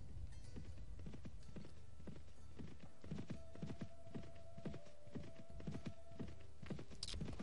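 Steady clip-clop of horse hooves at a riding pace in the game Mount and Blade Warband, an even rhythmic trot running throughout, fairly close, with no voices.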